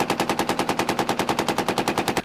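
A compact, heavy 9mm Luger gun fires full metal jacket rounds in a rapid automatic burst of about twenty evenly spaced loud shots, stopping abruptly at the end, with no talking.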